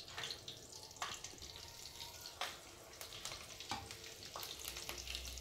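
Green chillies, bay leaf, cumin and curry leaves fry in hot oil, a quiet sizzle broken by several sharp clinks and spatters of stirring, faint and fairly close.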